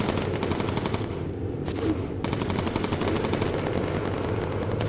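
Rapid machine gun fire from a B-17 Flying Fortress bomber's gunners in a video game, loud and nearly continuous throughout, with a brief lull in the middle before the bursts resume over steady engine drone.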